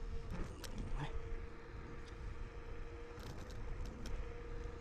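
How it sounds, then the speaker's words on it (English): A car passes on a road close to an electric scooter (Kukirin M4 Max) riding at about 44 km/h, heard as a steady broadband road rush with wind noise and faint mechanical creaks throughout. "Car coming here."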